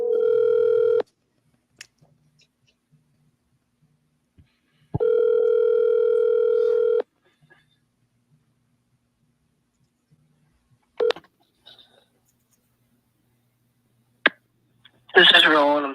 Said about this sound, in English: Phone call is Rolo.